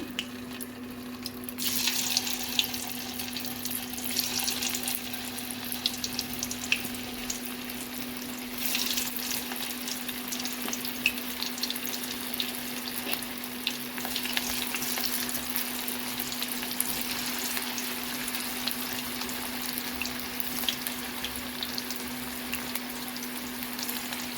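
Cauliflower 65 pieces deep-fry in hot oil with a continuous bubbling sizzle that swells after they drop in, a long, even hiss heard close with no voices.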